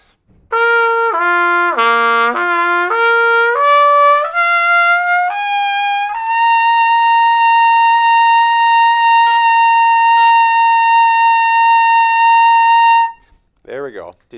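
A trumpet climbs step by step from a low C through a run of short notes into the high register, then sustains one clear, bright high note for several seconds before cutting off.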